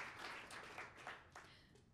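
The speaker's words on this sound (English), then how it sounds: "Clap for that." Applause from the audience at a live JavaScript meetup, a brief burst of scattered clapping, fairly faint and distant, tapering off toward the end.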